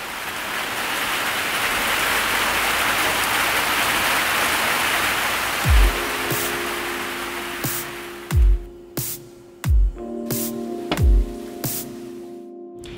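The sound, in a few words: heavy tropical rain shower in Martinique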